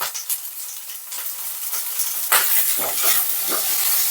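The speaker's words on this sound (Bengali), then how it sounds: "খুব সুন্দর করে ভেজে দেবো ঢেঁড়সটা" Whole okra frying in a pan with a little salt and turmeric, a steady close sizzle that grows louder and busier partway through, with stirring scrapes and spatters.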